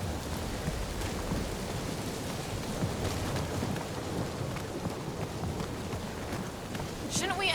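Steady rain pours and patters in Marvel's Guardians of the Galaxy, a dense hiss with low rumbling beneath and a brief rising electronic whine at the end.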